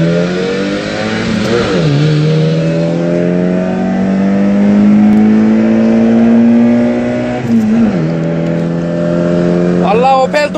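A Tofaş Doğan race car revs hard and accelerates, its engine note climbing in long rising sweeps with gear-change dips, loud and close, with excited voices talking over it.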